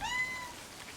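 A cat meows in a video game, one short rising cry at the start, alone over faint background noise.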